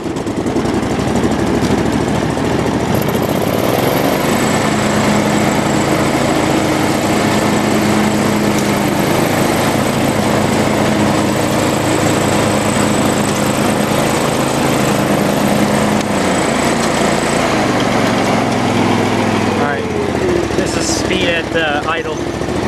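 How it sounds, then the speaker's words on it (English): A John Deere riding lawn mower engine runs close and loud, a steady buzzing drone that shifts in pitch a few times, then eases down toward the end as the engine settles. "start the mower."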